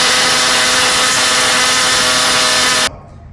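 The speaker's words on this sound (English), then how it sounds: "probably half the time what we end up doing is just cutting this out with an oscillating saw" An oscillating saw cuts out a car suspension bolt with a loud, close, steady high buzzing whine that stops abruptly near the end.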